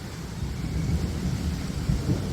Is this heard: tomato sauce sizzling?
no